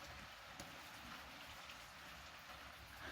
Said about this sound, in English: You hear the rain outside.